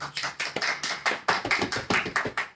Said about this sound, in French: Laissez applaudir le Seigneur Jésus-Christ.